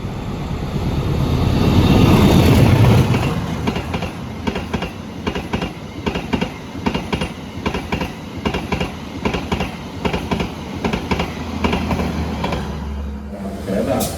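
The Bogowonto economy-class passenger train rumbles along the rails at up to 120 km/h, with steady rhythmic clacking of wheels over track joints, loud and continuous, a heavy surge of noise early on.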